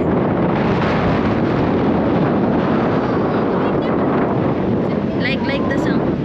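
Strong outdoor wind buffets the microphone in a continuous low roar during a cold, breezy bike ride, with faint voices talking near the end.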